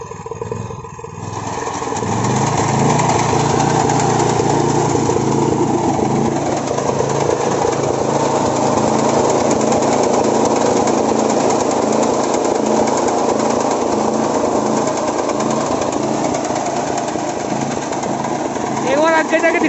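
Power weeder rotavator with a gearbox runs steadily at close range, its engine holding a continuous loud drone with mechanical clatter throughout, while people talk over it.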